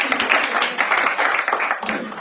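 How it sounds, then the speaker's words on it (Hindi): A stand-up comedy crowd in India breaks into dense, continuous applause, loud and close, mixed with cheering voices throughout and no clear pauses. "एक बार वैभव के लिए जोरदार तालियां."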